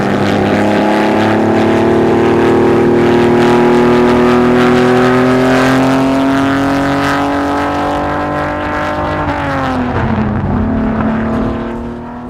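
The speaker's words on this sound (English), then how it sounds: "the V6 Ferrari Dino engine did have a wonderful rasp to it" A 1958 Ferrari Dino F1 recreation race car with a V6 engine, its loud raspy exhaust note held steady and then dropping in pitch as it eases off, close up with no talking.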